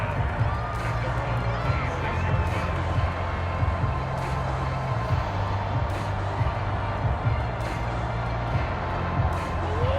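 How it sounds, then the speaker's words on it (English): Stadium crowd noise from a simulated Madden NFL 23 game between the Arizona Cardinals and Philadelphia Eagles, a steady broad roar with faint cheering swells, under a low droning game soundtrack. "The crowd may be losing just a little bit of the edge after back-to-back punts."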